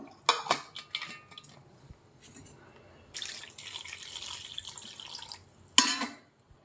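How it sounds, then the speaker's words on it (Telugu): Tamarind is washed in a metal pot and the water poured off, giving short bursts of clattering vessel and splashing, then a longer pour and a final clatter, with quiet gaps between. "ఇలా కడుక్కొని నీళ్ళు వంపుకుందాము."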